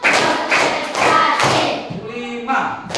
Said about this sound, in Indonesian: Sekarang kita main tepuk.